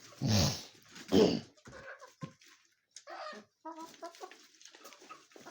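Chickens cluck and squawk nearby, a couple of loud calls at the start followed by softer scattered clucking and rustling.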